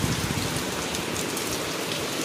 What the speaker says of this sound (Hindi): एत जोर से वर्षा होची